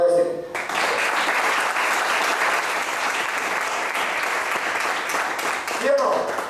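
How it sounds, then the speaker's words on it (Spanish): Congregation applause fills a church sermon on speaking in tongues, a dense sustained wash of clapping that starts after a short speech fragment and runs steadily to the end, loud and close. "Aplaude."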